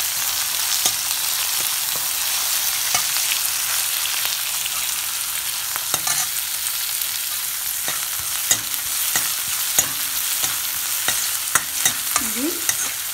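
Chopped onions and green chilli pieces with salt sizzling in a pan: a constant bright frying hiss runs throughout, punctuated by repeated light clacks of a spoon stirring, close up, with no talking.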